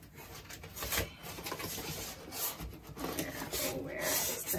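Foam packing material from a Harry Potter Noble Collection wand box is rubbed and squeaks as it is handled, producing close, uneven scraping and rustling bursts.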